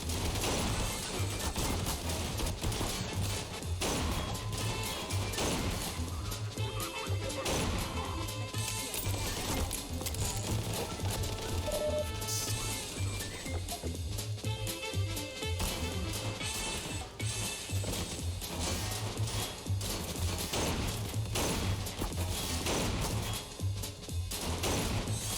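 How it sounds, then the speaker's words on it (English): Machine guns fire across a World War I trench battlefield in a video game, a dense, continuous rattle of gunfire and crashing impacts under a steady low rumble and game music, loud and unbroken throughout. "Okay, so I have like 3 fucking machine guns to worry about."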